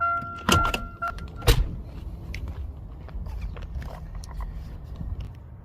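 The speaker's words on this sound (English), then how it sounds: "Let's pop the hood." The hood of a 2009 Chevy Cobalt with high mileage is released and lifted: a couple of sharp clicks and a latch clunk near the start, followed by quieter handling noises and light rustling.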